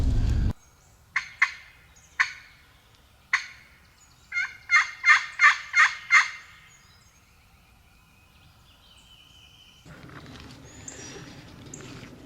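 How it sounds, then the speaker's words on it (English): A wild turkey gobbles repeatedly in Illinois hardwoods, first in spaced single bursts, then a quick run of several gobbles, clear and fairly near, followed by quiet and rustling. "I heard what was either a very distant gobble"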